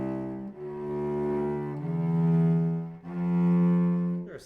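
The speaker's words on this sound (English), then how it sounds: "if I were to take the first four notes and just play them separate bows" A cello sounds four separate detached bowed notes in a beginner lesson, each with its own bow stroke and a small dip in level between notes, sustained and warm, played alone at close range.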